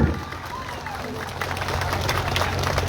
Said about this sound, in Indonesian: sekali lagi tepuk tangan sekeras-kerasnya agar gedung di sana bergetar